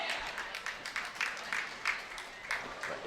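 A crowd at a women's professional bowling match claps and cheers in scattered bursts, heard faint and distant under a commentator's voice.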